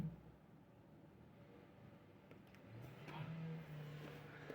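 A car engine runs roughly and unevenly after an attempted jump-start, a low steady idle with a slight surge toward the end, heard from nearby without talk.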